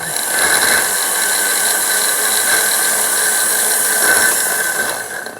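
Low-mount 12-volt winch running fast on a swapped gearbox, giving a steady loud mechanical whine with gear hum that holds evenly throughout and tapers slightly at the end, with no talk.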